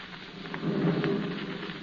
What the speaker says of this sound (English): Sounds as though we're due for another electrical storm tonight.